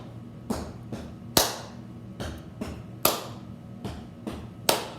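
Hands clap in a loose, uneven rhythm, nine sharp claps spaced over a few seconds, close and crisp with short decays, while a simple rhyming game is demonstrated.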